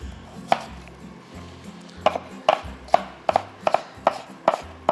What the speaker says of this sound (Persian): و خوب این ریزه میکنیم.